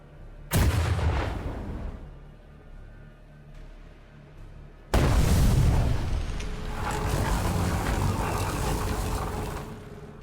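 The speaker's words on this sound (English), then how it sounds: "We're under fire!" Gunfire and explosions in the strategy game Warhammer 40k Battlesector, with two heavy booming blasts, one near the start and a bigger one midway, followed by rumbling battle noise that keeps going.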